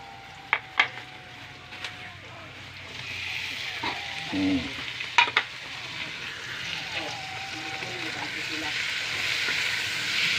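Tomatoes and garlic sauté for milkfish sarciado with a broad, steady hiss that swells midway, broken by a few sharp spoon clinks against the pan, close and fairly loud.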